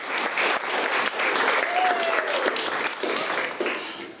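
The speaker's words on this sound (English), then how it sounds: "let's give Joe another big round of applause. Put your hands together. Keep on clapping, keep on clapping." A crowd applauds loudly and continuously, dense clapping throughout with a voice briefly rising over it.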